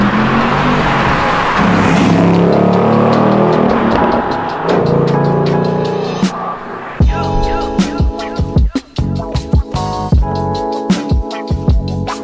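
A Ford Mustang Bullitt V8 starts with a loud, sustained engine roar that swells and fades, then gives way to a series of sharp throttle blips and revs, each burst standing clear and close with short gaps between.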